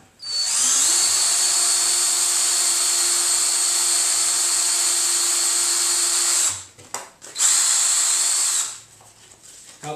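Power tool on the end of a casting tube, one long steady whine for about six seconds, a brief pause, then a second shorter burst before it winds down; close and loud, with no talking.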